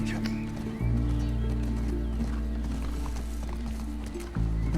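A horse in the video game The Last of Us, its hooves clopping in a steady rhythm over a low droning game score, with a brief whinny-like cry riding near the start.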